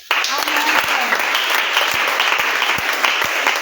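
Worshippers in a church congregation clap and cheer together, a dense, steady wash of applause with scattered sharp claps, close and loud throughout.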